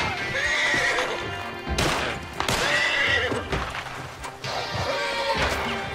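A horse in Red Dead Redemption 2 Online whinnies loudly and repeatedly, three shrill neighs with hoof clatter and crashing game action around them during a gunfight.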